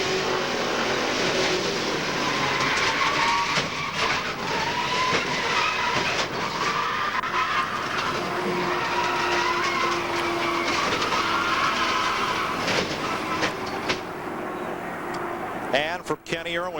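A NASCAR Cup car's engine at the 1999 Daytona 500, recorded onboard while laps run under caution. The engine drones loud and steady throughout, with a commentator's voice talking over it.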